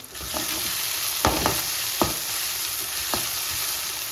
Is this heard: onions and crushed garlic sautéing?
yes